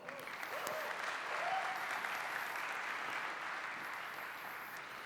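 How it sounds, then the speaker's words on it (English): Sustained audience applause at a smartphone launch event, a dense wash of clapping from a large crowd that stays steady for several seconds with no voices on top. "Give yourself a round of applause."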